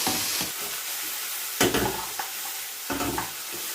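Food mixture for lemon pepper chicken, with vinegar and soy sauce, stirred in a hot pan with a light sizzle and several distinct scraping strokes of the spoon, close and alone.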